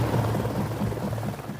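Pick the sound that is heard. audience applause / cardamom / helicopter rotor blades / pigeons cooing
helicopter rotor blades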